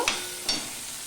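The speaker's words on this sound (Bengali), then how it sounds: "দিয়ে আলুটাও আমি ভেজে নেব" A thinly sliced small potato and onion fry in a pan, making a steady sizzle. Two sharp stirring scrapes come close together, and no one speaks.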